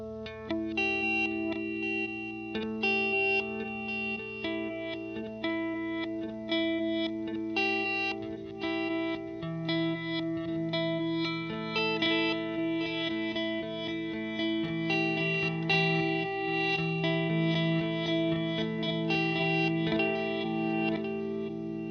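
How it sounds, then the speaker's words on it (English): Layered guitar notes with a swelling reverse delay pedal shimmering behind them, steady and continuous with no talking. "I like to put like reverse delay in the background of songs"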